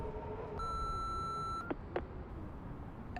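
Answering machine beep in the horror game Remothered: Broken Porcelain: a single steady electronic tone lasting about a second over a low hum, followed by two short clicks.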